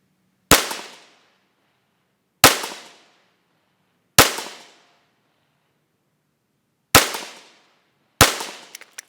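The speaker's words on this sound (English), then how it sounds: "All right, now we're going to shoot our 5 rounds." Rifle shots from a BCM barrel ring out one at a time, each a loud sharp crack with a short decaying tail, spaced a couple of seconds apart and heard alone outdoors without voices.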